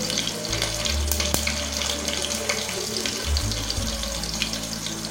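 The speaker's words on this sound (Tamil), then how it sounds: "இப்போ கடுகு நல்லா பொரிஞ்சிருச்சு" Mustard seeds, dried red chillies, curry leaves and asafoetida sizzle in hot oil for a tempering, a steady close hiss and crackle with a low hum underneath.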